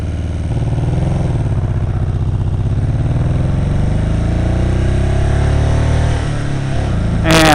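A motorcycle ridden in the rain, its engine a loud, close, steady drone whose pitch rises and shifts as it accelerates, with a short burst of hiss near the end.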